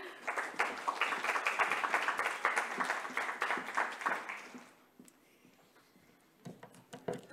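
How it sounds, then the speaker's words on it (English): Conference audience gives a welcoming round of applause for a Riga City Council chair at a dementia support event, dense clapping that holds for about five seconds then fades to a few scattered claps. "we are really welcoming you with applause here"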